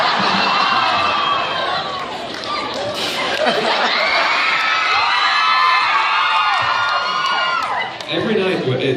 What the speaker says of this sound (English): people cheer for the idea of T-Rex arms.